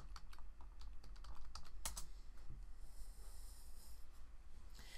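Quiet keystrokes on a computer keyboard as a library database search is typed, a steady patter of taps with a few louder clicks, no talking.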